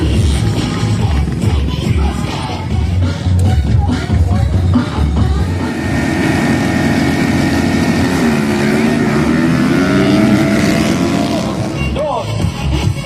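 Motocross motorcycles race, their engines roaring and revving loudly nearby, the pitch rising and falling as they accelerate, with voices talking over the din.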